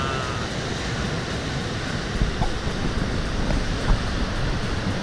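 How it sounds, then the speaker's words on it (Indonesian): Big ocean waves surge steadily onto a beach where people are fishing, a continuous loud wash of surf mixed with wind buffeting the microphone. "ini mulai datang ombak gede."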